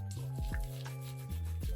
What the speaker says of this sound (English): We want a thick lather